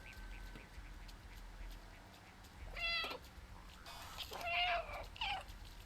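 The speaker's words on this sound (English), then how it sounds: "I've meowed 100 times." A game cat meows a few times in short bursts, with soft background ambience and a faint steady hum between the calls.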